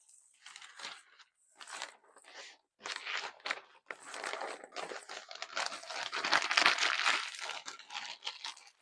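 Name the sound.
crumpling wrapping paper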